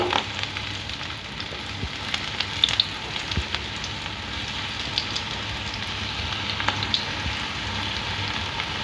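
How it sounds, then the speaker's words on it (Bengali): Steady, dense crackle of chicken deep frying in hot oil, with scattered sharper pops rising over a continuous sizzle, no voices. "এবারে তেলের মধ্যে দিয়ে দেব, দিয়ে ডিপ ফ্রাই করে নেব"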